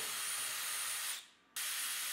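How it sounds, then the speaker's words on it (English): A cordless drill fitted with a 3/16 bit bores a hole through a metal mounting bar while a Kohler mirrored medicine cabinet is installed, giving a steady close whine that cuts out briefly, then resumes at full strength. "I'll take a cordless drill with a 3 16 drill bit and drill a hole in the mounting bar on my mark"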